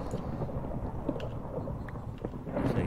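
A thunderstorm in Minecraft, heard as a dense, continuous low rumble of thunder with steady rain hiss beneath it, loud and close, with no voices over it.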